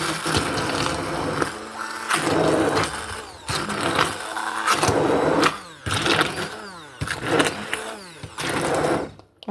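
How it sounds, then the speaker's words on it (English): Immersion blender whirring through a pot of homemade cranberry jam flavored with orange extract, a close, loud motor drone in repeated bursts of a second or two with brief pauses between, no talking. "of an immersion blender."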